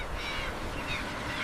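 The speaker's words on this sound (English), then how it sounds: "A seabird colony is not only a spectacle, it is evidence that the ocean nearby is productive." A seabird colony calls in a dense, continuous chorus of harsh cawing cries, moderately loud and unbroken by any talking.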